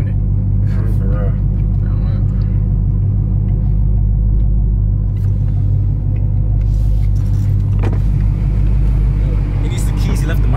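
A BMW M3 Competition driving, heard as a loud, continuous low engine rumble from inside the car, with voices talking over it.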